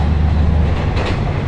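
A KiHa 40 series diesel railcar runs on a line in Japan, heard from on board as a loud, steady, close rumble of engine and wheels.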